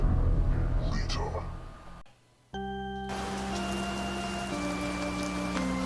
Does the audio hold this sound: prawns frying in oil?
no